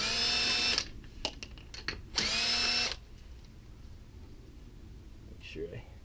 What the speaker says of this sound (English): I got this attachment right here that goes on my impact drill